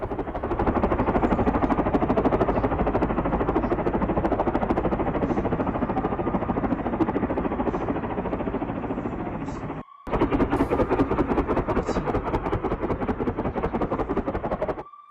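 Gunfire and bombardment during overnight Israeli air strikes on Tehran, Iran: dense, continuous, loud bursts of rapid firing that fill the whole stretch, with a brief cut partway through before the barrage resumes.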